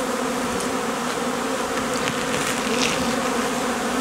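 Honey bees hum in a dense, loud, steady drone at a hive during a February cleansing flight, close by and continuous with no voices.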